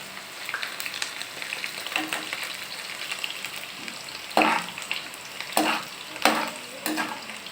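Onions sizzle steadily in a generous amount of hot oil while a spoon scrapes and stirs them, sharp clinks punctuating the close, constant frying, with no voice.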